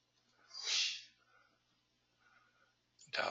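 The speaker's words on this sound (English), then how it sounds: "is sneezing in the background" A person sneezes once in the background, a single fairly faint burst, followed by quiet room tone and a louder noise at the very end.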